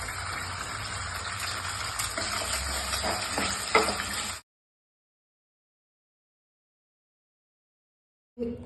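Vegetables frying in white oil for home-made noodles, a close steady sizzle with stirring scrapes for about four seconds, then abrupt silence before a brief return of sizzling at the end.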